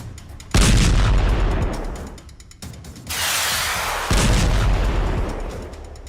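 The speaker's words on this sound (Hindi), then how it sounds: "धमाके ड्रोन बम के हैं।" Loud, close drone bomb explosions at an oil site in Fujairah, UAE hit one after another, each followed by a dense roaring rumble, with brief dips between the heavy blasts.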